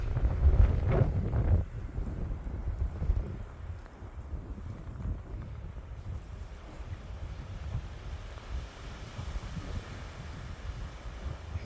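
Strong wind roars through a major winter snowstorm with blowing snow in Valparaiso, Indiana, buffeting the microphone in heavy gusts at first, then settling into a steady, rumbling rush.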